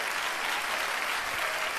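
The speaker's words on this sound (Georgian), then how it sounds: "კიდევ ერთხელ მინდა აპლოდისმენტები მათ ჩვენგან" A studio audience at the finale of a Georgian talent competition claps for the finalists. The applause is dense, steady and close, and lasts under two seconds.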